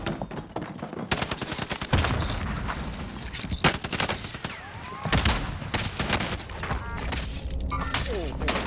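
Rapid gunfire in a Call of Duty Warzone Mini Royale match, dense bursts of shots and automatic fire crackling loud and close, with excited talk over the shooting.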